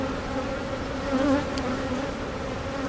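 Honey bees drone inside an open beehive on a farm, a dense, steady buzz that holds a constant pitch. The swarm sounds close and fairly loud, and no one speaks.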